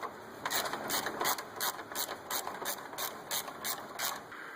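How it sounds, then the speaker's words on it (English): A ratchet clicks rapidly in steady bursts while bolts come off a Chevrolet Trailblazer's 4.2L engine during a low oil pressure check, close and fairly loud with no talk. "And start taking bolts out."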